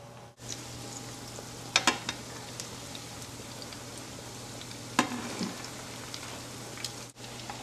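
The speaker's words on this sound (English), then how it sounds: "When you're putting the bread in here, you have to be careful because the oil is very hot." Bread fries in very hot oil in a frying pan, giving a steady, close sizzle with a few sharper crackles and spatters, heard alone without talk.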